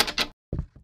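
A locked back door in a haunted-house horror video game being tried, two quick rattling clacks of the handle, a brief silence, then a duller thud with a short follow-up knock, close and loud.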